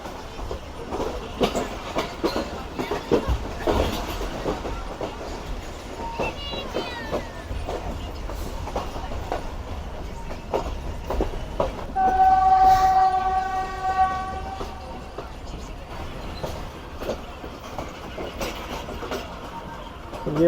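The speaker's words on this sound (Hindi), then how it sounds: "और हमारी ट्रेन का वजीराबाद पर स्टॉप नहीं है, थ्रू पास करेंगे हम यहाँ से।" An express train runs straight through a junction station without stopping, observing yard speed limits: a steady rumble and rattle of wheels on rails, a long horn blast in the middle, with a voice talking over it.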